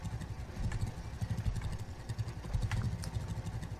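A tractor in the farming game Farmers Dynasty dragging a cultivator across a field, a steady chugging engine rumble with a low rhythmic throb and faint clatter, continuous and moderately close.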